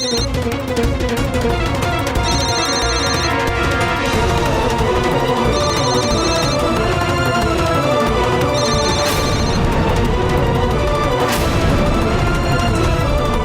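An electronic phone ringtone chiming in repeated bursts over a loud, busy background of music and noise.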